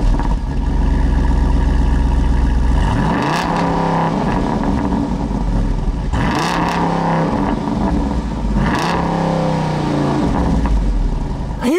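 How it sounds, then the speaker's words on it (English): A 2022 Jeep Wrangler Rubicon 392 V8 barks through its quad exhausts, loud and close, idling between several sharp throttle blips that rise and fall. "But even though they might not be as showy as other quad exhausts, they certainly sound good."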